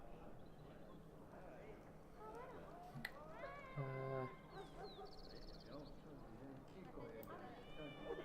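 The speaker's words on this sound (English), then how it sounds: "at least now that one sounded like a cat" A cat meowing in the Dragon Age video game, a short tonal meow with rising and falling pitch heard amid game sounds and a person talking over much of the scene.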